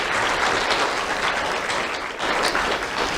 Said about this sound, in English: let's have a round of applause for everybody behind the scenes today.